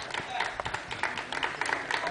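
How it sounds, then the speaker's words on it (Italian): Spectators in the stands clap for a youth football team at the last match of the season, scattered steady applause at a moderate distance while someone talks over it. "ecco i nostri ragazzi che vanno a raccogliere gli applausi dalla tribuna"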